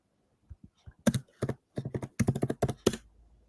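A search query is typed on a computer keyboard: a burst of close, crisp key clicks in quick uneven rhythm, a few soft taps building into rapid clusters of keystrokes before stopping.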